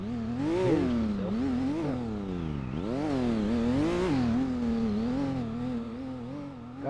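A motorcycle engine in a roleplay video game, revving continuously with rising and falling pitch, loud and close, dipping and surging in repeated swells throughout.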